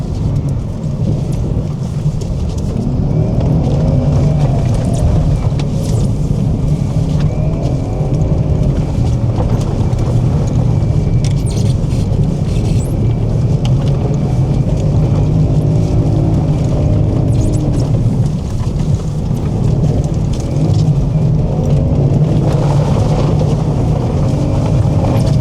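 A Porsche drifts across a frozen lake, its engine revving up and down in repeated sweeps under a constant loud rumble that runs unbroken throughout.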